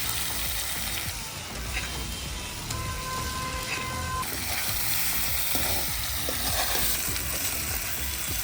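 Wild foraged food sautéing in a pan, a dense, steady sizzle and crackle heard up close with a few faint scrapes of stirring throughout and no voices.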